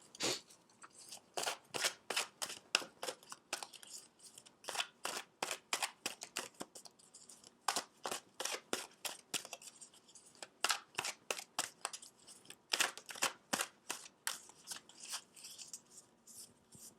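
Small event cards being shuffled by hand for a card reading, a long run of quick, crisp riffling flutters in rhythmic bursts, close and fairly quiet, with no voices.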